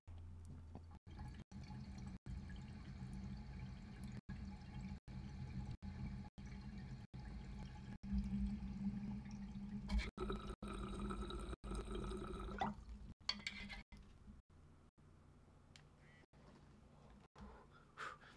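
Water bubbles and gurgles in a water pipe drawn through a Storz & Bickel Venty vaporizer, a steady low churning broken by brief gaps, with one louder, brighter stretch of bubbling near the middle.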